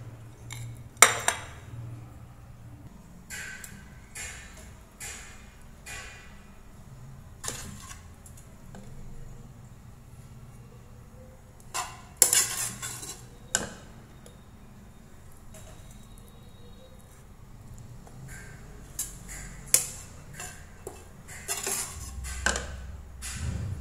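Seasoned minced pork shoulder, stir-fried with five-spice, spooned from a pan onto a plate in a home kitchen, giving scattered light clinks and scrapes of utensil on dish against a quiet background.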